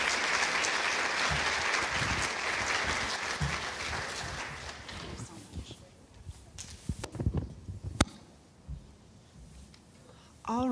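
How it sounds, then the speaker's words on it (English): Audience at the 2022 Iowa Cancer Summit gives a loud round of applause for about five seconds, then the clapping thins out and fades, leaving scattered claps and room noise. "let's give Malycki one more round of applause"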